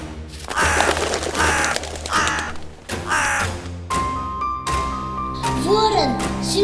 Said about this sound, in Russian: Ворон, символ темного мира.